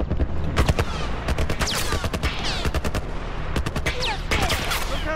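Military turret in The Last of Us firing repeated bursts of loud, sharp shots in irregular clusters, with debris and ricochet-like zings between volleys, sustained over a dense battle background.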